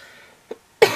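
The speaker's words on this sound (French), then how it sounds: "Ça, on va souvent m'entendre tousser ces prochains jours." Someone coughs at close range: a small, brief cough, then a sharp, loud one right after.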